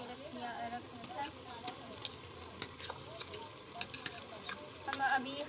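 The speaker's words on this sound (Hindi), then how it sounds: "अब हम घी डालेंगे इसमें" Ghee sizzling and crackling in a pan while frying aloo keema, a quiet steady fry with scattered sharp pops and light stirring scrapes throughout.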